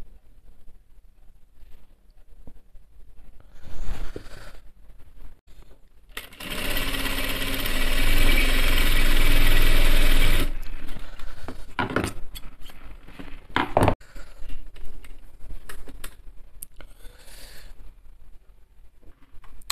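Sewing machine stitching the shoulder seam of a men's kameez, a steady loud whir running for about four seconds in the middle, with quieter handling noises before and after.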